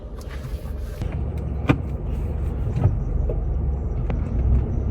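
A Lexus Harrier drives along with a steady low engine and road rumble heard from inside, punctuated by a few soft clicks and thumps.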